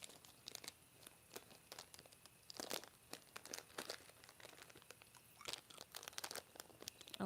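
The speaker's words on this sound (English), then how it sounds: "Let me put some gum in my mouth." A gum wrapper is unwrapped close by, giving faint, irregular crinkling and tearing rustles in quick bursts with no talking.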